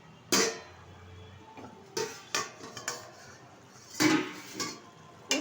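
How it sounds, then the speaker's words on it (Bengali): A metal lid comes off a pot of cabbage and potato curry with a sharp clank, followed by a few lighter knocks and clinks of cookware, close and fairly loud with no talking. "ঢাকনাটা তুলে দিচ্ছি।"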